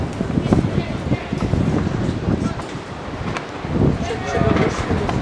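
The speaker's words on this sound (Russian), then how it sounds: "Такой ветер к урагану." Strong gusty wind buffets the microphone across a football pitch during an amateur league match in Kazan, a rough rumbling roar that rises and falls throughout, with faint voices mixed in.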